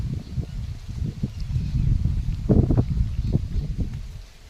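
Gusty wind buffets the microphone in low rumbling surges, swelling louder in the middle before easing off near the end.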